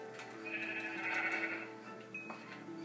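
Video game sheep bleat once in a drawn-out, wavering cry over a steady hum of game music and background ambience, with a faint game sound effect near the end.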